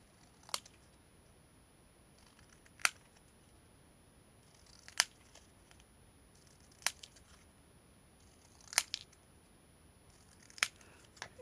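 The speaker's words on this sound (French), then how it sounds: "on coupe sur tous les traits" Scissors snip through paper along drawn lines, giving about six sharp, quiet cuts spaced a couple of seconds apart against a near-silent background.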